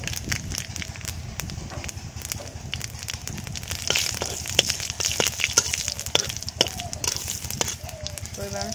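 Dried red chillies, cumin seeds and a bay leaf hit hot oil for a village chicken curry, giving a steady sizzle scattered with sharp crackles and pops under a voice talking.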